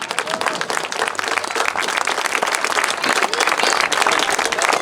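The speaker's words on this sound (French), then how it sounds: "On peut l'applaudir." Audience applause at the inauguration of a mural on a parking lot, a dense, steady burst of many hands clapping that fills the whole stretch at close range, with no voices rising above it.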